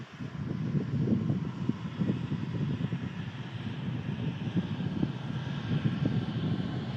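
An Airbus A321 airliner touching down, heard as a steady, low engine roar with some wind buffeting on the microphone, moderately distant and continuous throughout.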